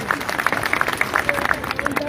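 Crowd applause for guests at an outdoor development rally in Baldevgarh, Tikamgarh, with steady rapid clapping from many hands at moderate distance for about two seconds.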